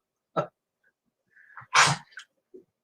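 A dog sneezing or coughing after eating a rock: one sharp burst, a short pause with faint snuffling, then a louder explosive sneeze followed by two smaller snorts, close to the microphone and alone.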